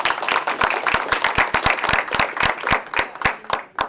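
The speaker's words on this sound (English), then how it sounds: "give yourselves a round of applause" Audience applause following a website talk, many hands clapping at close range with sharp distinct claps in a steady, dense patter through the whole stretch.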